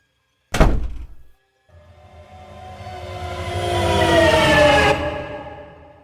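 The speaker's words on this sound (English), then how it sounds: "the door closed with a loud bang" In a horror audio drama, a heavy door slams with a single loud bang that rings briefly, then after a short silence a rumbling, rising rolling noise swells and builds before tapering off.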